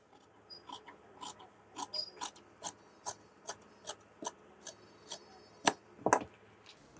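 Scissors cut through shirt sleeve fabric in a series of about fourteen crisp, evenly spaced snips, close but fairly quiet, with a slightly louder clatter near the end.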